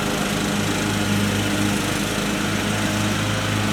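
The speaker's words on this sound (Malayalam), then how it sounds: "പോൾസേൻ്റെ പുല്ല് വെട്ടൽ നടന്നുകൊണ്ടിരിക്കുകയാണ്" A riding lawn mower cuts grass close by, its small engine holding a steady, droning buzz with a constant tonal hum throughout and no voices.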